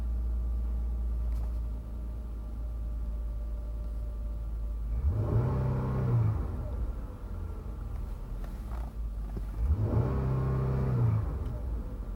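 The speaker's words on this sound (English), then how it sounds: "Sound of a good, healthy V6." A 2015 Jeep Grand Cherokee Summit's V6 engine idles steadily, then revs up twice with rising and falling pitch, close and moderately loud, the revs spaced a few seconds apart.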